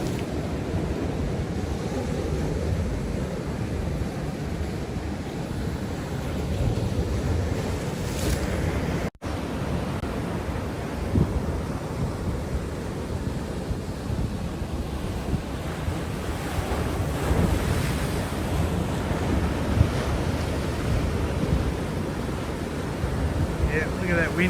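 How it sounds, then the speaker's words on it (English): Wind gusts over ocean surf at sunrise, a continuous broadband roar of breaking waves and microphone wind noise that holds steady throughout, growing slightly stronger toward the end. "look at that wind picking up. It's really starting to come in fast"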